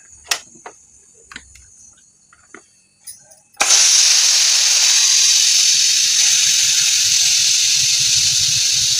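A pressure cooker used to cook rice has its steam let out: after a few quiet clicks and knocks, a sudden loud, steady hiss bursts out and continues strongly, close by.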